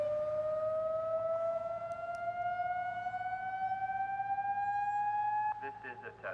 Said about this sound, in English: The city conducted the second audible test of its neighborhood outdoor warning sirens recently